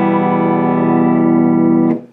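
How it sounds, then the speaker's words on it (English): An electric guitar plays its clean tone through a pedalboard that includes Rat distortion pedals, ringing as one sustained chord that holds strongly and then cuts off abruptly near the end. "This is my clean tone sound."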